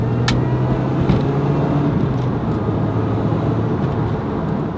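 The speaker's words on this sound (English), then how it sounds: "It's not the most sonorous engine in the world, it has to be said." Supercharged Lotus Elise 220 Cup engine while driving, a steady low drone with road rumble underneath, constant and fairly loud throughout with no clear rev changes.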